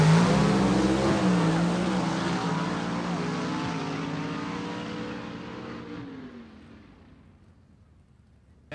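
A-gas gasser drag cars blast down the dragway at a Southeast Gassers Association race at Gulfport Dragway, a loud roaring engine wail that climbs in pitch and then fades steadily into the distance.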